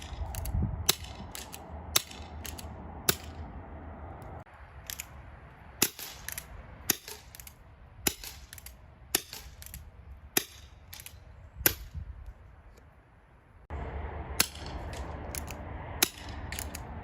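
Elite Force Wildcard CO2 airsoft revolver fired in a steady string of sharp, loud cracks, each about a second apart, with a brief pause mid-sequence and a hissy background bed.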